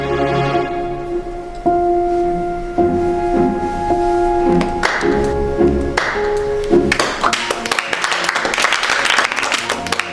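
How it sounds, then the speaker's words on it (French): Audience applause for a child's speech in a school election, a dense steady clatter of many hands from a crowd, loud and continuous, with background tones and some rising noise toward the end. "Mais pourquoi vous applaudissez?"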